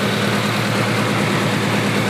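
A 1992 Honda Civic hatchback's high-compression D16Z6 engine with Bisimoto header, level 3 camshaft and high compression pistons idles at around 1300 RPM, a loud, close, steady rumble with a fast even pulse and no voices.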